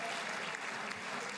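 Brief burst of dense applause from a large audience for Benjamin Netanyahu, a steady wash of many hands clapping, heard faintly.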